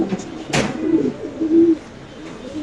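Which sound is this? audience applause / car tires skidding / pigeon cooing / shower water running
pigeon cooing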